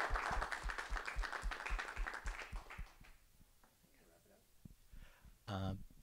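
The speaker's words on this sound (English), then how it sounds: "round of applause" Audience claps after a lightning talk at a hacker meetup: a few seconds of fairly close, rhythmic clapping that fades out, followed by a quieter stretch with some brief talking and noise.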